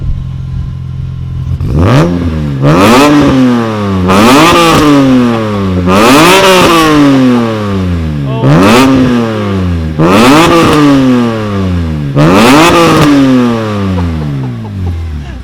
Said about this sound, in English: Let's get behind the car to hear the exhaust note.